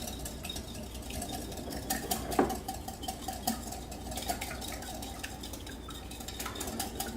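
Cracked eggs being stirred in a bowl, a close run of quick wet sloshing with light clinks of utensil against the bowl, continuous and fairly quiet, with no talk.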